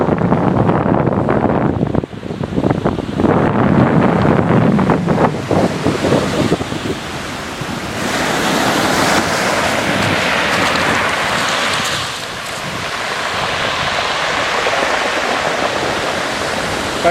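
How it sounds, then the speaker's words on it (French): Ocean waves after a cyclone or heavy repeated swell roll and converge onto the shore in a loud, continuous roar of surf, with some wind rumble and no voices. "C'est marrant la convergence des vagues là."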